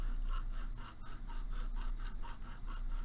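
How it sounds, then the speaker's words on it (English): Square file sawing a notch into a bead, a steady back-and-forth rasp repeating in regular strokes, close and fairly quiet with no talk. "I am sawing my file back and forth"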